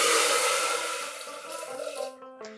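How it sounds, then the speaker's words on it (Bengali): Hot water poured into a pressure cooker of dal, a close rushing gush that thins and fades, ending in a few faint splashes and a brief trickle, with no talk. "আর দিচ্ছি গরম জল।"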